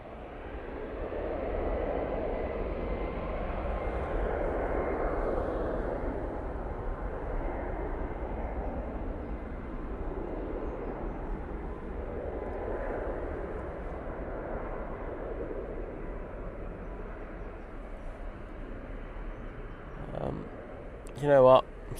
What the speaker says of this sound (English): This is the Eurowings coming in from Dusseldorf now.